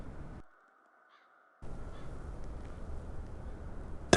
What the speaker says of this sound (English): Those peculiar crows.